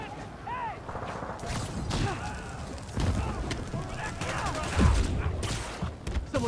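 Rapid bursts of gunfire crackle and boom throughout in Marvel's Spider-Man Remastered, with sweeping game-like effects layered over dense action noise.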